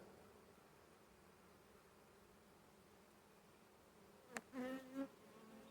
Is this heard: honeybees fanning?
yes